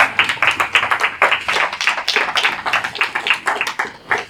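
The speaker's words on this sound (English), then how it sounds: "Let's give another big round of applause to James, guys." A live audience claps and applauds after a talk, with dense, steady hand claps filling the room continuously and fairly loud, without speech over it.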